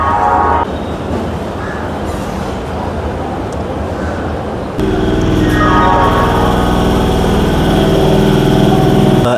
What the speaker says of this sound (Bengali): ট্রেন এখন আসলো।